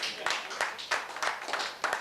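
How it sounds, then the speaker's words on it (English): Audience at a celebration event in Lagos, Nigeria, applauding with rhythmic clapping bursts at moderate distance, fairly faint, with no talk over it. "Can we give her a round of applause?"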